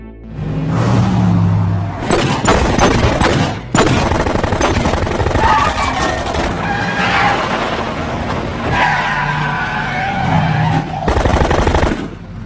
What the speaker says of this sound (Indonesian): aksi kejar-kejaran, yang diwarnai baku tembak, tidak dapat lagi dihindari